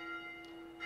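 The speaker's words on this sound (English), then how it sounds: "The bell! Someone's sounding the bell" A bell sounds faintly in the game Dark Souls 2, a brief sustained metallic ring with steady tones, distant and low in level.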